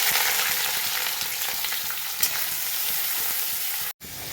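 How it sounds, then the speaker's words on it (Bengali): Onions sizzle steadily in hot oil with black cumin in a pan, a dense, even frying hiss that runs almost unbroken and close, with only a brief dropout near the end and no talking. "পেঁয়াজটা লাল লাল করে ভেজে নিতে হবে ভালো করে।"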